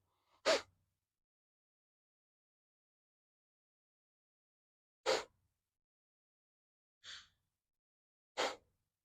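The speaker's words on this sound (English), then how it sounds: "Let's take 3 more breaths like this." Deep breaths during a yoga breathwork practice, four separate breathy exhalations spaced apart across quiet silence, each short and soft, the third fainter than the others.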